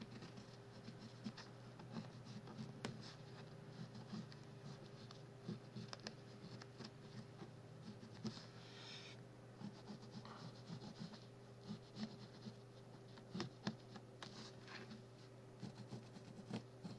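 A pencil traces around a stencil on paper envelopes, a faint, continuous scratchy rubbing with small irregular strokes over a low steady hum, close and alone.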